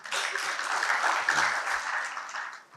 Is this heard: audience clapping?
yes